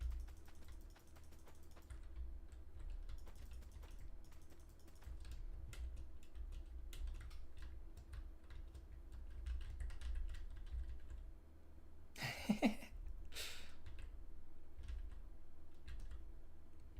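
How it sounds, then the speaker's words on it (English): A computer keyboard is typed on in a steady stream of soft, faint clicks with irregular rhythm, accompanied by a low hum and one louder thump partway through. "how much do you hear the keyboard sounds?"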